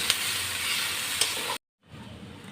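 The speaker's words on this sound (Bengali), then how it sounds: "পেঁয়াজ কুচিগুলো আমি ভালোভাবে লাল লাল করে ভেজে নেব" Chopped onions fry in hot mustard oil in a wok with a steady close hiss and sizzle, which cuts out briefly after about one and a half seconds and then returns more quietly.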